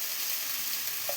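Tomatoes fry with onion, ginger and garlic as the base for a chicken gravy, giving a steady, even sizzle that holds briefly and alone.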